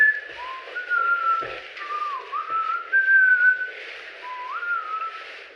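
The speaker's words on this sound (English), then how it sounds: "The young man whistled pleasantly while he worked" A person whistles a wandering melody, clear sustained notes with small slides between them, close and alone.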